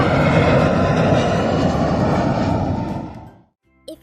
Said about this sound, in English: I'm a patrol jet. I fly super fast